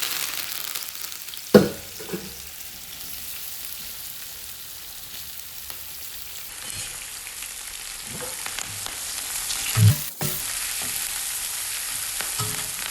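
Onion and curry leaves sizzle steadily in hot oil for a prawn gravy, with a loud stir or clatter near 1.5 s and again near 10 s over the continuous frying hiss.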